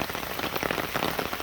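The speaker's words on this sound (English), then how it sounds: "water's kind of starting to run here, but I don't know if this rain will last long enough to get a good flow down in there" Steady rain falling near a storm drain, a dense, even patter of drops on hard ground with fine crackling splashes, close and constant with no voices.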